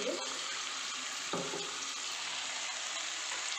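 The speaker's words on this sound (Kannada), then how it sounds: "ಈರುಳ್ಳಿ ಹಾಕಿದ ತಕ್ಷಣ ನೀಟಾಗಿ ಒಂದು ಸರ್ತಿ ಎಲ್ಲ ಎಣ್ಣೆ ಈ ಥರ ಫ್ರೈ ಮಾಡಿ ಒಂದು 2 ಮಿನಿಟ್ಸ್ ಫ್ರೈ ಆಗಿಬಿಡ್ಬೇಕು" Onions fry in oil in a pan for a chicken fry, producing a constant close hiss of sizzling oil with a brief clatter near the middle and no speech.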